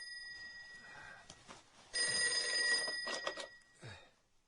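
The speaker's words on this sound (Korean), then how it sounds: "전화벨이 울리고 있었다" An old-style telephone bell rings in a bright, trilling burst, fairly close, with fainter ringing and room noise around it.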